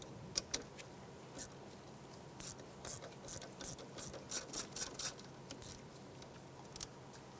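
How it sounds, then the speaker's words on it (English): Socket ratchet with an 8mm socket loosening the bolt that secures the ABS sensor to the knuckle of a 2001-2007 Ford Escape, giving bursts of quick, close, crisp clicking, thickest through the middle stretch and then thinning out. "Using an 8mm socket, we're going to go ahead and remove the bolt holding the ABS sensor into the hub or into the knuckle"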